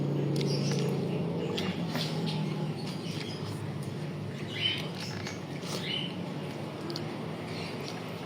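Small birds chirp and tweet faintly in the background, scattered calls over a steady low hum of room noise.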